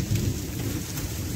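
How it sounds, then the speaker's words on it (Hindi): Heavy jungle rain pours down outside a rock shelter on the Surajkund trails, a dense continuous hiss with deep low rumbling that fits thunder, and no talk. "वैसे तो बाहर काफी बारिश चली है, हम बिल्कुल एक चट्टान के नीचे घुसे हुए हैं।"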